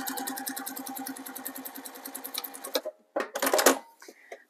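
Sewing machine stitching quilt binding with a rapid, even chattering rhythm for about three seconds, followed by a brief pause and a short louder burst of fabric handling or stitching, close by.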